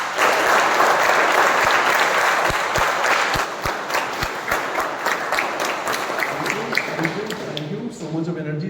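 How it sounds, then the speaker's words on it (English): An audience at a Toastmasters club meeting bursts into loud, dense applause for the best speaker, the clapping thinning and fading toward the end as a voice begins to talk. "can we have a huge round of applause for Toastmaster Akshay"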